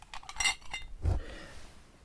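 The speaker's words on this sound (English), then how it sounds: "I got these metal ice cubes" Metal ice cubes clink and rattle against a whiskey glass holding Mackmyra whisky: a few light chinks, then one heavier knock, close and clear with no talking.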